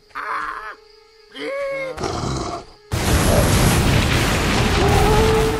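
A Balverine creature in Fable Anniversary growling and roaring during combat, short guttural snarls giving way to a loud sustained roar under a dense, noisy fight.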